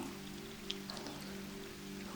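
Rain patters steadily on a stormy night, a soft close hiss with a few distinct drops and a low hum beneath it, no voices.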